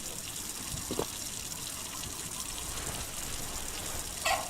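Water trickles and gushes softly in a Tamil-commentated horror video game, a steady faint liquid wash with a couple of brief splashy bursts near the start and end.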